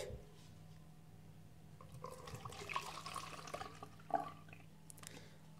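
Pepsi poured through a funnel into a spray bottle for a homemade bathroom cleaning mix, a soft trickling stream with small splashes and clinks, quiet and close over a low hum.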